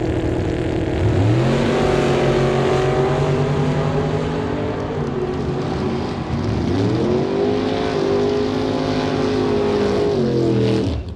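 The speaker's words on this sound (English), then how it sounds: "Darren Buick, 67 Chevy Nova here in the TCS Tower Lane, taking on that beautiful 66 Mustang and Jason Gibson" A 1967 Chevy Nova and a 1966 Mustang with a 427 small block launch side by side at a drag strip. Loud, close engines roar and climb in pitch through several gear shifts, with no speech.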